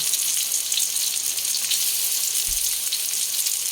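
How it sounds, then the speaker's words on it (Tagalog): Chopped onions sautéing in a generous amount of hot cooking oil left over from frying tofu, a steady broadband sizzle throughout with a brief low clunk midway, no voices. "Igigisa po muna natin yung sibuyas."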